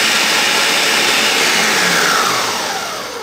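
A blender runs steadily while blending a chocolate smoothie, a loud continuous motor whir and churn of crushed contents that holds for about two and a half seconds and then eases slightly in level, with no talk.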